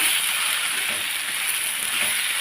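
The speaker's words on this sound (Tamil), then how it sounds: "கொஞ்சம் மிளகா பொடி நல்லா வதக்கி விட்டுருவோம்" Ridge gourd sautéing in a pan with turmeric and chili powder, giving a continuous, even hiss of frying close by with no voices.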